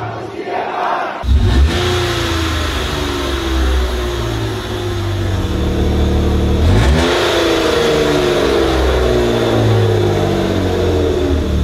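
A car engine revs hard and loud in repeated climbing sweeps while being worked on for a dream-car repair project, with a short pause near the middle before it revs up again.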